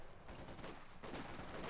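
Gunfire from a Company of Heroes 2 battle, a brief, faint burst of overlapping shots in the distance with a sharper volley near the end.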